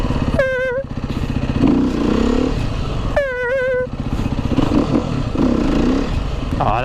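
A motorcycle engine revs hard twice, each rising whine climbing sharply as the rider pops a wheelie, over a steady rumbling idle and clattering, heard fairly close with no talk.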